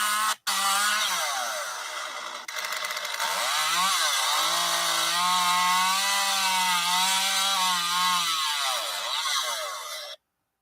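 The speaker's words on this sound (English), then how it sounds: "I may just have to get the chainsaw and cut a little chunk out right here" A chainsaw cuts a chunk out of wood at a beehive, roaring loud and close for about ten seconds, its pitch wavering as the chain bites and eases, then it stops abruptly.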